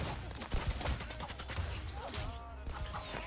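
Shotgun blasts in the animal battle game Zooba ring out amid a busy, chaotic jumble of combat effects and impacts, loud and close throughout a frantic fight.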